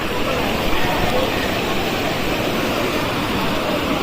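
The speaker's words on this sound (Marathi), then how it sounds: "हा बघा काळू वॉटरफॉल." Kalu waterfall roaring in a steady, dense wash of flowing water, loud and close, with a crowd of visitors murmuring faintly underneath.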